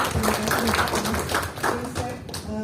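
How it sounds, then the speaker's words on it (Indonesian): Audience applause at a technical briefing and focus group discussion on dredging and reclamation, steady clapping from a seated crowd lasting throughout, with some voices and room noise mixed in. "berikan tepuk tangan"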